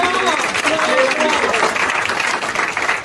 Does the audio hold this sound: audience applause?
yes